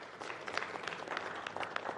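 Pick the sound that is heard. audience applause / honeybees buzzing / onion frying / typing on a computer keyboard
audience applause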